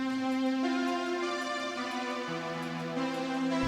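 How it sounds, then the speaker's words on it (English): Sustained string-ensemble chords from a 1977 Yamaha SS30 String Machine, held steadily with a chord change midway, smooth and even with no voices. "So I started out with this Yam SS30 String Machine"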